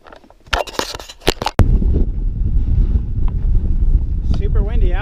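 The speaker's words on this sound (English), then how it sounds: "Super windy out." Strong wind gusts roar across the microphone in an open desert canyon while backpacking, a steady loud rush with low buffeting after a burst of handling sounds at the start.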